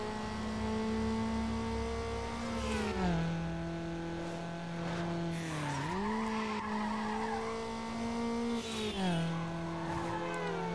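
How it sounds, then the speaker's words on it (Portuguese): A street-racing car in Need for Speed Underground revs hard through the gears, engine pitch climbing, dropping at each shift and climbing again, with tire squeal and skidding mixed in, loud and continuous throughout. "Dirigir pesado, acelerando."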